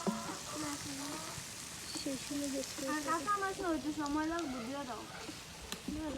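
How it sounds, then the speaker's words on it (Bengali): Fish sizzle in hot oil in a pan during outdoor cooking, a steady faint hiss running beneath a woman's close, continuous talking. "মাছগুলো ভাজা হয়ে গেছে"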